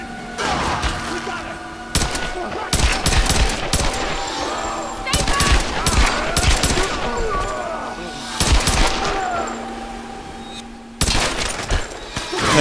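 Repeated bursts of gunfire from the video game Tomb Raider (2013), loud thumping shots in irregular clusters over a steady game drone, with a voice talking at times.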